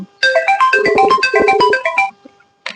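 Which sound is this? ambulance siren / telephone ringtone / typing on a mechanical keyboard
telephone ringtone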